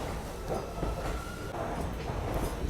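The Danapur–Secunderabad express rolls out of Danapur railway station on a cold night, a dense low rumble of wheels and carriages with faint squeals, steady and fairly close.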